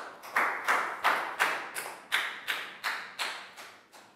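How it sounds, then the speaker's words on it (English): A slow, steady series of about ten distinct claps from a classroom, evenly spaced and fairly close, with no voices. "a big round of applause for Lakau."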